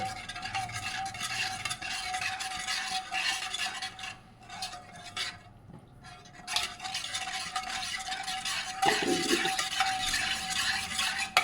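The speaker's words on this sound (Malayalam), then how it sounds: "ഇത് ഉടനെ തന്നെ ഇളക്കിക്കൊണ്ടിരിക്കണം ഒരിക്കലും നമ്മൾ ഇളക്കാതിരിക്കരുത്" Pudding mixture with cornflour stirred continuously in a pan, a close scraping and swishing of a spoon against the pan with light clinks, steady and uneven in rhythm.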